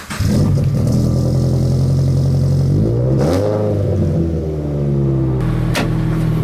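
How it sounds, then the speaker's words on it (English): A turbocharged Scion FR-S with a titanium straight-pipe exhaust idles with a deep, loud rumble, revving up briefly a couple of times before settling back to a steady growl. "let's go ahead and just start up the car and let it warm up."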